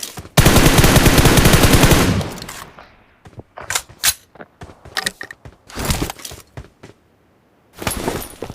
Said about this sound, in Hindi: एक बॉट है बस, वो गोलियां चला रहा है